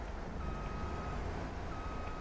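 Truck reversing beeps in a farming video game: two long steady electronic beep tones over a constant low engine rumble, fairly faint and heard without talk.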